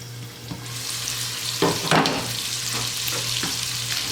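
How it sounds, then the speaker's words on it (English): Dominican longaniza pork sausage fries in a covered pot with a steady, close sizzle and crackle, marked by a few louder spattering pops along the way. "let's let this cook for about 5 minutes"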